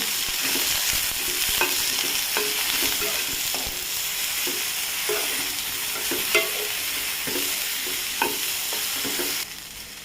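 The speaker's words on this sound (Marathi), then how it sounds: "आता आपल्याला 2-3 मिनिटं भेंडी छान फ्राय करून घ्यायची." Okra fries in hot oil in a wok-style kadhai, a steady close sizzle broken by repeated scraping clicks of a spoon stirring the pan, continuing alone without talk for about ten seconds.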